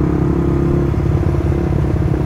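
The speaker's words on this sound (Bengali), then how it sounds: "ও ভাই আমার এক্সস্ট কেমন সাউন্ড করছে ভাই, তো সুপার বাইকের মতো সাউন্ড করছে।" A motorbike exhaust drones loudly and continuously up close with a low, throbbing engine rumble and no voices over it.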